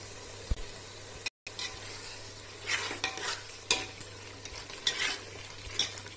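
Chicken biryani ingredients sauté in a pan, with a soft steady sizzle broken by repeated scraping strokes of a stirring spoon, close and moderately loud, with one brief silent gap.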